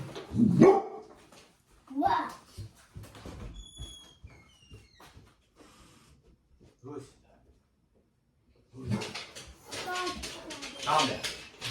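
A dog barks in short bursts, some distant and some close and loud near the end, mixed with a voice speaking between and over the barks.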